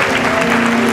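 An audience at an awards ceremony in Puebla and Tlaxcala claps steadily, a dense, loud wash of applause filling the whole moment.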